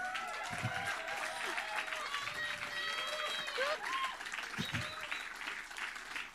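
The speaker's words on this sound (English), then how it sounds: "I think we should give Lucy a massive round of applause." An audience at a Growing Together 2020 event claps in a sustained round of applause, with scattered cheers and voices over the steady patter.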